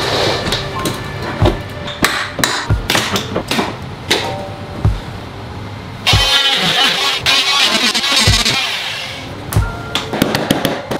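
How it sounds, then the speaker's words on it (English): Sharp, irregular taps from a small child's hammer ring out close by, some in quick bursts, with a stretch of rustling noise partway through. "I'm using my 7-year-old's hammer in case anybody was wondering."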